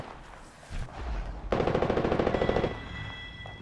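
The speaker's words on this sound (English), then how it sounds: "I am taking fire, friends." Gunfire in the shooter game Apex Legends: a sharp rapid burst of automatic fire, loud and close, lasting about a second after a low rumbling lead-in, with no voices.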